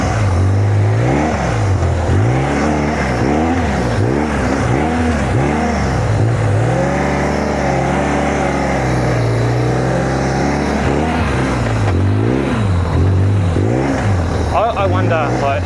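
A Mercedes G-Wagon engine held at high revs, loud and close throughout, its pitch surging and falling in repeated waves; a person talks over it.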